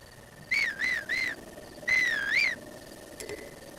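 A whistle blown in Breath of the Wild, heard as four rising-and-falling melodic toots in two pairs, clear and close over a faint steady background hiss, followed by a brief soft chime.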